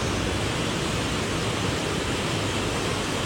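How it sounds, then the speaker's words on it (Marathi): Heavy monsoon-season rain pouring down, a dense, even, continuous hiss with no breaks, loud and close, with no voices. "आणि पाऊस मला वाटलं थोडाफार कमी होईल."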